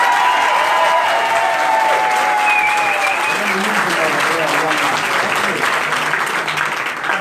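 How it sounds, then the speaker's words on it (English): Sustained audience applause fills a press conference on a nursing home strike vote, steady and dense throughout, with faint voices and a brief tonal whistle-like sound early on. "Can we please put our hands together for Senator Richard Blumenthal?"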